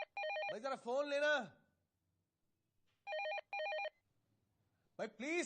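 A telephone rings in repeated electronic trills, with warbling voice-like tones between rings and pauses of silence, heard close and clear.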